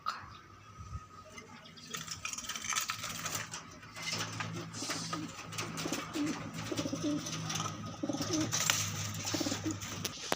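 A racing pigeon coos steadily near the listener, a low repeated cooing under a busy background of rustling and clicking noises, with no talking.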